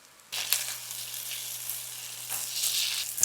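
Tomatoes, onions, garlic and beans sauté in a pan, a steady close sizzle that starts abruptly and holds at an even level for a few seconds, swelling slightly toward the end, with a faint low hum underneath and no talk.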